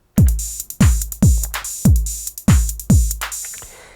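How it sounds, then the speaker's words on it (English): A punchy Elektron Analog Rytm MK2 drum machine beat on its default kit, booming kicks and crisp hits repeating in a steady rhythm, loud and close, no voices. "I already have a beat loaded in, and it has the default kit"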